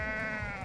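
A goat in the video game Goat Simulator lets out a single short, loud bleat with a strong, buzzy, wavering tone, close up and heard on its own.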